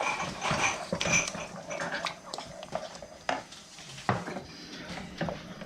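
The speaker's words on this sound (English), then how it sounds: "I'm going to throw in the pectin and vigorously stir it so that we don't have any lumps" Strawberry jam in a pot with pectin stirred in vigorously before any heat, heard as quick scraping and clinking of a utensil against the pot in uneven strokes, close and fairly quiet with no speech.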